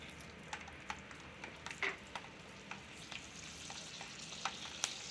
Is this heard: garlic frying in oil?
yes